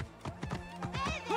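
Horse hooves clip-clop in a quick uneven rhythm, close by, with a short neigh-like sound near the end, in the video game Assassin's Creed Origins.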